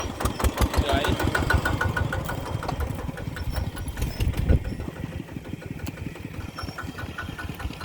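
A large farm tractor used for ploughing runs with a steady, loud, rhythmic chugging throughout, while voices talk over it.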